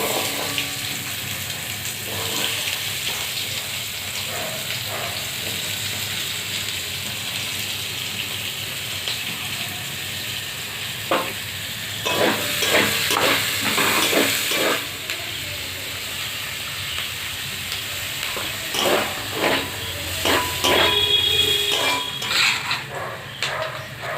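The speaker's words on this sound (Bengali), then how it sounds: "এবার আমি পেঁয়াজটা ভেজে নেব।" Onion sizzles and hisses steadily as it fries in a pan while chicken pasta is being prepared. The sizzle is moderately close, with occasional clinks of utensils against the pan and brief louder crackling bursts.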